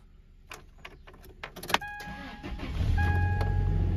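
A car with about 286,000 miles is jump-started with jumper cables after a drained battery: clicks and a brief chime come first, then the engine cranks and catches into a steady low idle rumble, close by.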